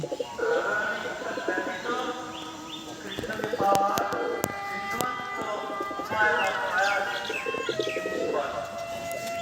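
A male roller (baji) pigeon coos in soft, low, repeated phrases at close range while someone talks over it almost continuously.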